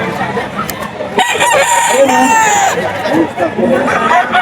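Roosters and gamecocks crow repeatedly amid dense clucking and chatter from many birds, with people talking over the noisy yard.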